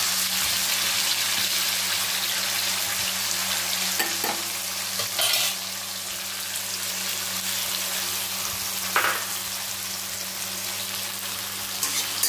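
Turmeric spice paste thinned with water sizzles and fries in hot oil for a fish curry, a steady bright crackle with occasional stirring scrapes, close and continuous without speech.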